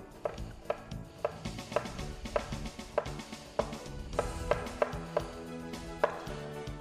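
A knife chops onion on a cutting board in a steady run of crisp, close taps, roughly three or four per second, with faint kitchen clatter underneath and no talking.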